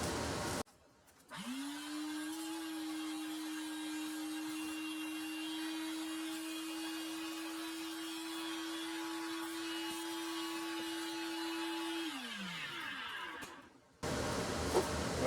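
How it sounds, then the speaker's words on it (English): A swamp cooler runs steadily in an auto shop during fuel pump work on a 2000 Dodge Durango, its even motor hum and fan noise holding constant after a brief start, then winding down near the end. "Now we do have our swamp cooler on because we got some vapors going on in the shop"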